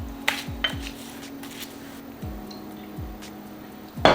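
Salmon fillet turned over in a frying pan to crisp the skin, giving several sharp metallic clinks and scrapes of utensil against pan in quick succession, with a quieter sizzle between them and a louder clatter at the end.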